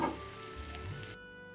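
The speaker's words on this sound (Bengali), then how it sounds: "টমেটোটা একটু ভাজা ভাজা করে নেব মিডিয়াম আঁচে" Tomato frying in a pan over medium heat gives a steady, close sizzle with a soft crackle, holding evenly before dropping away abruptly near the end.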